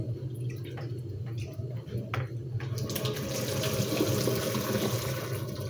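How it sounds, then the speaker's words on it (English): Cooked pasta, mac and cheese, gets dumped into a strainer in a kitchen sink, and water rushes and drains in a close, continuous splashing wash that swells louder in the second half. "let me dump these into my strainer"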